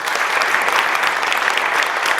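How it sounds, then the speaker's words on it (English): Audience applause at a community awards event honoring the African American Network of Kern County: a steady, dense wash of clapping from a crowd, continuous and fairly close for the whole stretch. "Can we give them a round of applause?"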